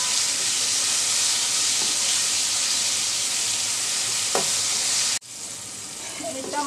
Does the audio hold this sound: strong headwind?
no